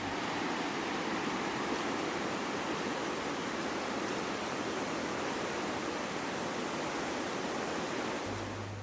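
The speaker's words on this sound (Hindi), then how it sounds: "इस पूरे माहौल में दरिया का पानी ही नगमे सुना रहा है" Steady, dense rush of the Neelum River flowing in Kashmir, continuous and fairly loud throughout with no pauses or voices.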